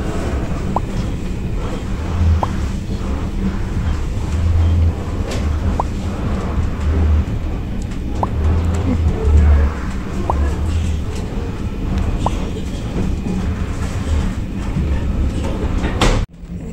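The Eastern Express passenger train runs through a tunnel between Kars and Ankara, giving a continuous loud rumble with rhythmic clacks and a sharp bang near the end, heard from inside a carriage.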